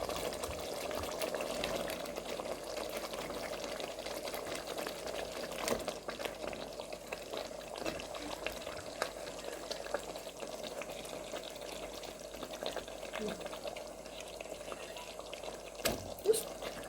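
Pieces of meat fry in a cooking pot in a home kitchen, giving a steady close hiss and sizzle with faint clicks of utensils throughout, and no talk over it.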